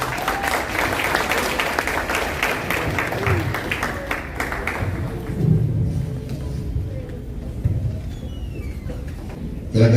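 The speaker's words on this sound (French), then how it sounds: "Applaudissez l'homme de Dieu." A wedding congregation claps for the pastor in a steady, loud wash of applause that lasts throughout. Faint background voices mix into the clapping.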